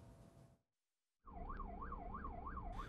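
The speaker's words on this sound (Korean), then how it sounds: "사이렌을 울리며 가던 구급차는 차선을 바꾸려다 돌연 멈춰섭니다." Private ambulance siren wailing in a steady, rapid up-and-down cycle, close and loud over road noise, starting abruptly after a short gap of silence, with a brief burst of other traffic noise at the very end.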